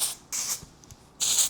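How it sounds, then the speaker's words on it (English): IGK touchable texture aerosol spray is misted over a whole head of curled hair in three short, close bursts with brief quiet gaps between them. "spray your whole entire head with touchable texture spray"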